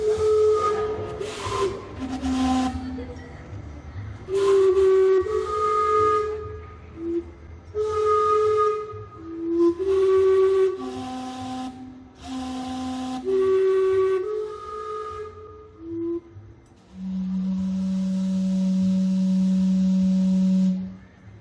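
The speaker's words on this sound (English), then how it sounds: "Obviously, we had to see the Gastown steam clock." Gastown steam clock in Vancouver sounding its steam whistles, a sequence of loud, layered whistle chords in short bursts and a long sustained final tone, with a steady hiss of steam running underneath throughout.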